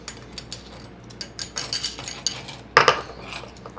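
A food mixture is stirred in a bowl with a utensil, making light intermittent clinks and scrapes, with a louder clatter near the end.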